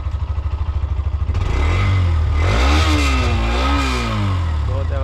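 A Hero Xtreme 125R, a 125cc motorcycle with 17,000 km on it, idles with a rapid thumping exhaust pulse up close, then revs hard. The engine note climbs, dips and swells again, loud and raspy.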